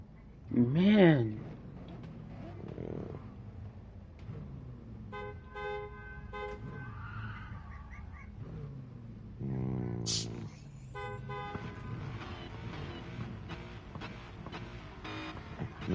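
Several car horn toots sound inside Gran Turismo 7 during a friendly online car show. The short bursts come at intervals while players chat over voice throughout.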